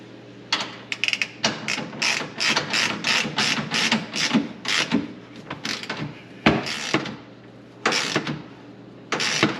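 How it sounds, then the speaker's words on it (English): A 5 mm Allen wrench tightens a bolt on a Kawasaki KRX flip-up seat base, producing rapid close ratcheting clicks and metallic rattling bursts in uneven runs with brief pauses. "and I'm using a 5 on Allen for these bolts. Then I'll go ahead and tighten this bolt down here."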